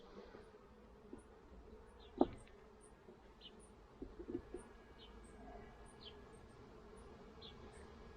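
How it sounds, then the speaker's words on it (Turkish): Quiet, sparse buzzing of honey bees being shaken off a frame during a hive split, with a few soft thumps and scattered chirps in the background; the hum stays low and faint throughout. "Bir de arı silkeleyeceğim."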